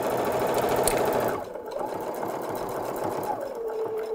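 Sewing machine running steadily as it stitches a zipper onto a reverse appliqué snowflake pillow, a loud continuous whir that dips briefly as the stitching slows for a short back stitch, then resumes.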